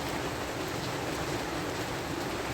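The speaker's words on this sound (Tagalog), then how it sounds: "tingnan mo, nag-ulan" Steady rain falling outdoors, a continuous even hiss of drops on surfaces without pauses or voices.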